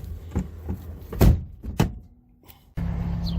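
The door of an old Buffalo coach bus is pulled and latched shut from the driver's seat, a few sharp metallic thunks and clicks close by, followed by a steady hum.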